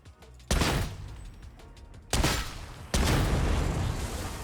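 A heavy stubber machine gun fires in a video game in three loud, close bursts, each a sharp onset followed by a sustained rattling roar, the last one running on without a break.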